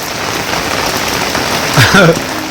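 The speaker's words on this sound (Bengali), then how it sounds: "বৃষ্টির ওয়েদারে" Steady rain on a rainy day, a dense even hiss across the whole stretch, with a brief higher child-like voice rising over it near the end.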